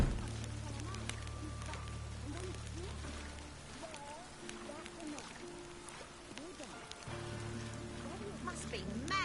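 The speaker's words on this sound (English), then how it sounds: "Must be mad running around in this rain." Rain pattering steadily on surfaces in a medieval village in The Witcher 3, a constant wash under game music and character voices talking.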